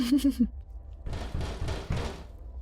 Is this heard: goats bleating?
no